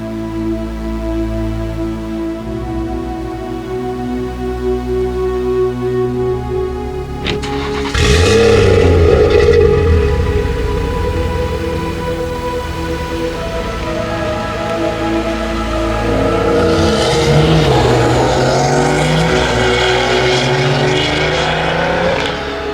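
A 630bhp Stage 3 BMW M140i idles with a deep rumble, then revs sharply and pulls away on the road, its engine note rising and falling loudly through gear changes.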